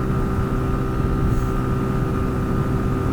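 A Zontes ZT 125-U1 motorcycle climbs a hill in sixth gear, its engine holding a loud, steady drone with a constant pitch over continuous wind rush; no one speaks.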